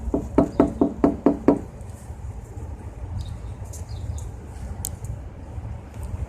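About seven sharp knocks on a door come in a quick, even burst in the first second and a half. Then a quiet room tone follows, with a few faint high chirps.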